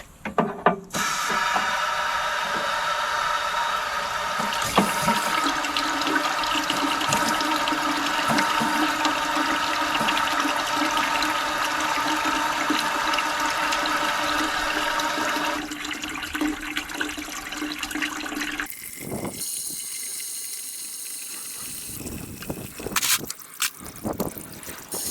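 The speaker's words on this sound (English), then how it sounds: "I'm going to run a little bit of just hose water through it" Garden hose water gushes steadily through a skid steer's cooling system, a continuous rushing flow for most of the stretch before it cuts off, leaving a few scattered splashes and clanks.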